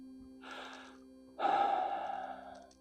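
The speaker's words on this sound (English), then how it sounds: "Breathe out and pull my belly in with my core." Diaphragmatic breaths during pistol shooting instruction, a short airy breath followed by a longer, louder exhale pushed out with the belly pulled in, close and breathy with no talk.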